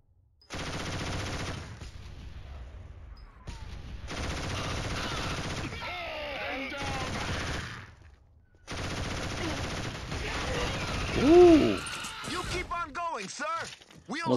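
Machine gun fire in Killzone rattles out in long, loud sustained bursts separated by short pauses, with a voice talking between and under the shooting and some squealing effects near the end.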